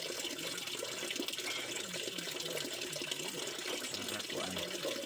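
Tap water running steadily and fairly close, a continuous splashing wash with a faint voice or background murmur underneath.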